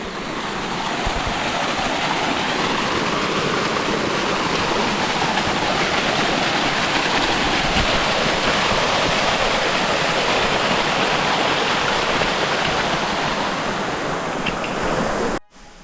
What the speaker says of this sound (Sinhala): මේ මෙතනින් එක වතුර පාරක් යනවා.